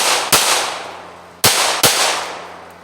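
Handgun shots at an outdoor shooting range: three loud, sharp cracks, the first alone and the last two close together, each followed by a decaying echo.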